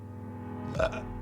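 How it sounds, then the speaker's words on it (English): A single short, low burp, faint and close, over a quiet background hum with no talking. "Burp."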